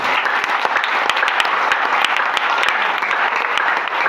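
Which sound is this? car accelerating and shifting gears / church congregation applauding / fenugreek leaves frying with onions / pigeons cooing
church congregation applauding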